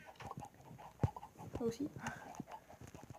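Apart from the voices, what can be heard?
chickens clucking in Minecraft video game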